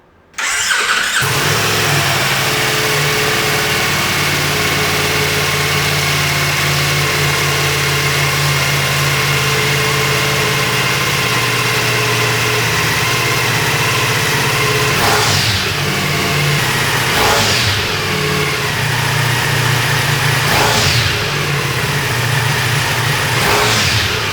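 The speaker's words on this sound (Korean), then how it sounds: "이 바이크 정차 중에 머플러 사운드와 또 출발하고 운행 중에 머플러 사운드가 차이가 있을 수 있음을 감안해 주시면서" Ducati Multistrada V4S motorcycle starting up and idling through its muffler, a loud steady close-up engine rumble held for over twenty seconds with a few brief throttle blips partway through.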